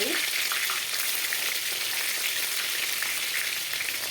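Stuffed eggplants for an Andhra-style curry sauté in a pan, giving a dense, continuous frying hiss at even loudness from start to finish.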